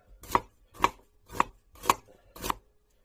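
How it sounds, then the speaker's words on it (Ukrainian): A santoku knife chops two medium onions on a board in five evenly spaced, crisp knocks about half a second apart, close and clear against a quiet background. "беремо ніж сантоку і нарізаємо дві цибуліни середніх"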